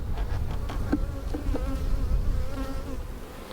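Honeybees hum around a storm-blown hive, their buzzing steady and close, with individual bees droning past now and then at low volume.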